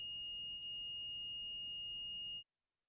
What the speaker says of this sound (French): appuyez sur OK sur le PDM pour arrêter l'alarme